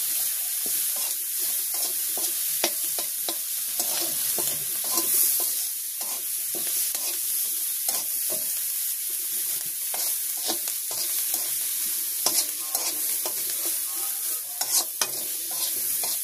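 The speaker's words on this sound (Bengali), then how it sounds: "পেঁয়াজ রসুনটা ভাজি হয়ে গেছে" Onion and garlic frying with a pinch of turmeric in a village kitchen pan, a steady bright sizzle running throughout with frequent scraping stirs of a spatula, close and fairly loud, no voices.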